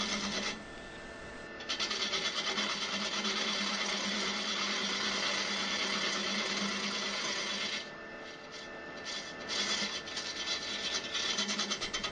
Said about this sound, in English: it's a matter of turning this into a cylinder